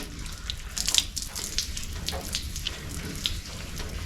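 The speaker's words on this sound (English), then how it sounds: "Gonna get me a clean squirt bottle and hose this thing off." Water from a squirt bottle sprays and rinses over a car panel being prepared for spray paint: uneven spattering and trickling in close, irregular bursts, with light drips, no talking.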